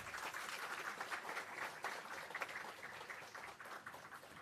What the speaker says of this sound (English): Another round of applause for them, please.